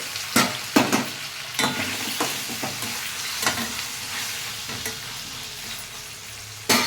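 Tomatoes frying in a pan with onions, green chillies and ginger-garlic paste: a continuous soft sizzle with sharp, irregular stirring scrapes of a spoon against the pan, heard close and without talk.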